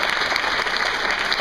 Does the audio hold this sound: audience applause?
yes